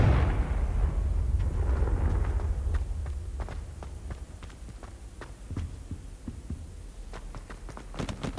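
Confringo spell blasts in the game Hogwarts Legacy, a series of sharp, scattered bursts and cracks over a low rumbling hum, louder at first and then settling into repeated impacts.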